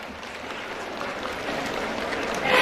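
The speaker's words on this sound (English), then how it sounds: "Just a huge round of applause for our students of class 8." Audience clapping for class 8 students at a school annual day celebration, a steady dense wash of applause that swells louder near the end, with some crowd murmur mixed in.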